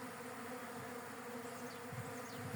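Honey bees from a weak colony at a hive inspection in early March buzz in a steady, dense drone that fills the clip, with a few closer individual bees passing near the end.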